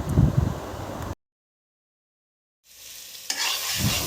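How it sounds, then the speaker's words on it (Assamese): Onions and chillies sizzle and scrape as they are stirred in a hot pan, broken by a short silent gap before the frying resumes. "এতিয়া ভালদৰে পিঁয়াজ আৰু জলকীয়াখিনি ভাজি ল'লোঁ আৰু ভাজি হ'ল।"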